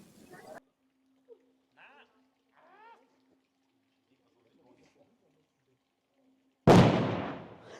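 A deep booming blast in Kufstein, Austria, a single loud explosive thud that rings out and decays, following a quiet stretch with faint scattered sounds and a soft hum.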